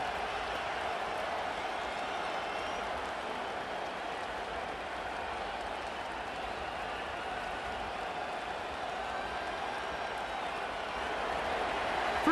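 Stadium crowd noise from the Madden 25 football video game, a steady, fairly quiet wash of distant crowd murmur and faint cheering that holds throughout without clear breaks.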